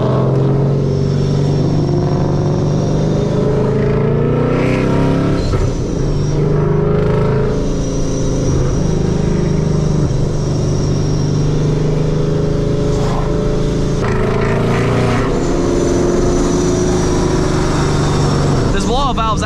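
A Ford Mustang S197 fitted with long tube headers cruises with a deep, steady engine and exhaust drone, swelling in places as it accelerates, while people talk over it inside the car.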